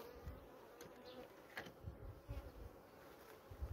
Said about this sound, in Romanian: având albine la ora asta în stup, eu zic că e bine